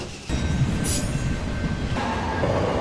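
Rumbling New York City subway train running underground, a steady loud roar of wheels and rail noise with a brief high squeal, continuous throughout with no talking.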